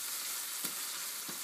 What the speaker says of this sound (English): I'm just going to turn it down to a medium heat and stir it around with the cumin seeds